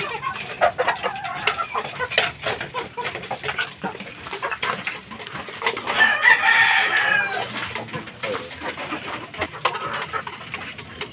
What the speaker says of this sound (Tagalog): Yun naman yung gold cock na talisay guys.